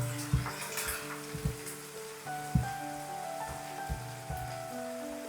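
Chopped scallions and minced garlic stir-fry gently over low heat in a pan, a soft steady sizzle broken by regular spatula knocks, with light background music and no talking.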